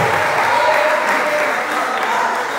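Church congregation applauding during a Pentecostal service: continuous dense clapping from many people, with voices faintly mixed in.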